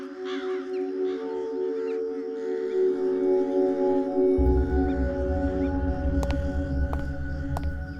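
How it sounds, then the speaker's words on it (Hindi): Crows caw in repeated harsh calls over a steady low hum, the birds sounding fairly close, with a deeper rumbling noise joining partway through. "ये कौवे यहाँ पर ऐसे ही रहते हैं क्या? इनके कांव कांव ने मेरा सिर दुखा दिया है।"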